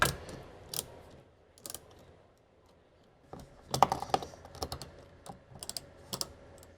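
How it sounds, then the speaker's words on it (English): Ratcheting tool tightening a mount for an Ehaho EH2002 soundbar, giving bursts of quick clicking strokes separated by pauses, close and fairly quiet, with no voices. "Using a little ratcheting thing did get us most of the way tight."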